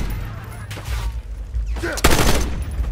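Gunfire in the Call of Duty Black Ops 6 campaign mission Hunting Season, with a couple of sharp bursts over a constant low rumble of game ambience, the loudest volley coming near the end, with talk mixed in.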